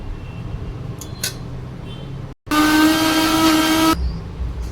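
Mixer grinder motor grinding tamarind with chillies and sesame roars on abruptly with a steady high whine for about a second and a half, then cuts off, preceded by faint clinks.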